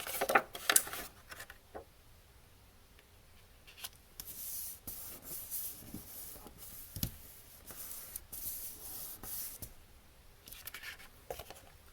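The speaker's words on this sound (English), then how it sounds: "Give it a good spritz with the" A mister spray bottle spritzes ink onto a crafting project in several short, breathy hissing bursts, some grouped close together, set against quiet rustling and handling noises.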